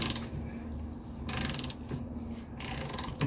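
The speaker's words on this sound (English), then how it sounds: "let's make sure we can get these drain plugs out" A ratchet wrench loosens a drain plug on the rear differential of a 1979 Mercedes 300SD, working in close, steady bursts of clicking with short pauses between strokes.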